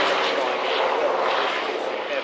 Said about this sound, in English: On the runway, taxiing out, is the second unique aircraft.